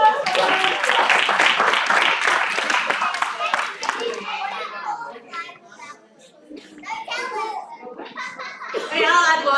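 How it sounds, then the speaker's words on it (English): An audience of children and adults at an evening spiritual program claps loudly in a dense burst that fades after a few seconds, followed by children chatting and chuckling, then clapping swells again at the end. "round of applause."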